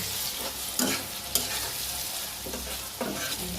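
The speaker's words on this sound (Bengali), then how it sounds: "পেঁয়াজটা এখন মিক্স করবো" Onions sizzle steadily in a hot pan for a cabbage fry while a spatula stirs them, giving a few soft scraping knocks over the constant frying hiss, close and moderately loud, with no talking.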